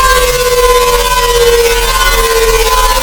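Serum software synth patch with an LFO in unipolar envelope mode over four bars modulating master tune, giving a loud, steady, sustained siren-like tone with bright held harmonics that drift gently in pitch throughout.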